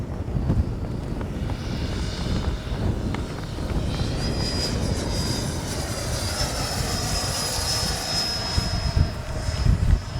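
A Freewing 90mm F-22 RC jet comes in to land with its gear down, a steady loud turbine-like whine and airy rush holding throughout, with a high tone rising near the middle and persisting to the end.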